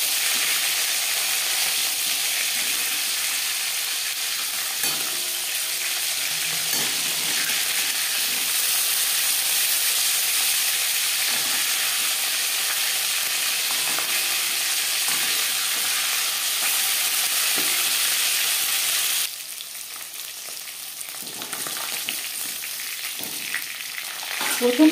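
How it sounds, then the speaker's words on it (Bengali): Tuna, a sea fish, frying crisply in hot oil in a pan, a steady loud sizzle and hiss with faint stirring clinks, close and continuous, briefly quieter near the end. "সামুদ্রিক মাছ আমি একটু কড়া করেই ভাজলাম।"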